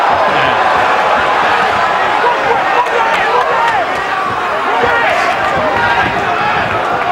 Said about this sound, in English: There's a lot of cheering going on.